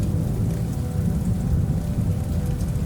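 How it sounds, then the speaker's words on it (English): Steady, heavy rain with low rumbling thunder rolling underneath, a dense continuous wash of falling water close by with no pauses. "The rain fades to a light drizzle."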